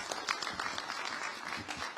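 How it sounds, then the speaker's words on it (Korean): Dense applause from the audience at a luncheon gathering with Korean expatriates in Türkiye, steady clapping from many hands throughout. "큰 박수 한번 부탁드리면서 더욱더 좀 신경 써달라고 큰 박수"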